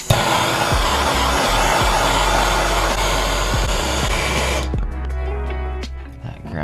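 A heat gun shrinks tubing over wiring during an Audi SQ5 fuel pump upgrade, a loud continuous blowing roar with a low hum that stops near the end, leaving quieter handling sounds.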